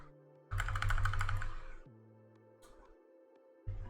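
Typing on a computer keyboard while setting up a GeForce GTX 1660 Super graphics card for mining; a quick burst of close keystrokes for about a second, then a few isolated taps.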